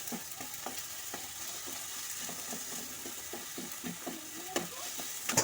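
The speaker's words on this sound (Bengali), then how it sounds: "একটু খুন্তি দিয়ে ঘেঁটে ঘেঁটে দেবো।" Tomatoes and onions fry in a pan under a soft, continuous sizzle while a spatula stirs them, with a series of light, irregular scrapes and taps, close but fairly quiet.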